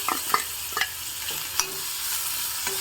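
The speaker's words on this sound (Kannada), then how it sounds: "ನಾನು ಹೆಚ್ಕೊಂಡಿರೋ ಸೌತೆಕಾಯಿನ ಹಾಕ್ತಾ ಇದ್ದೀನಿ" Light frying sizzle of chopped cucumber added to a spice tempering, with a few sharp clatters of stirring in a pan, steady and close, no voices.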